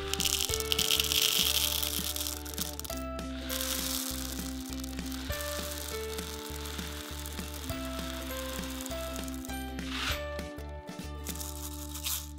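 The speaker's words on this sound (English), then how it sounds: "Okay, it's working. It's definitely mixing up those rainbow nerds." A small toy blender motor whirs steadily with a busy rattling churn of Nerds candy tumbling inside, continuous and close throughout.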